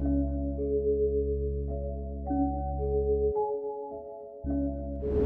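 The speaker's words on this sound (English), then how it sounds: "so I added a bass right here." A deep analog-style synth bass patch called Mob, from Mike Fuego's Spectre bank for Analog Lab, holds low sustained notes under a bright melodic line in an FL Studio dark sample beat, cutting out briefly for a break before returning.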